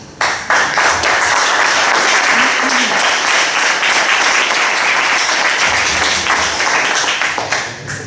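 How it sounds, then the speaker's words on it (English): Audience applause at a panel debate on cannabis, loud sustained clapping from a full room that starts abruptly and holds steady before tapering at the end. "I would very much like to everybody to give them applaud for that"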